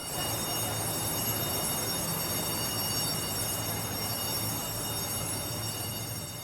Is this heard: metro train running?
yes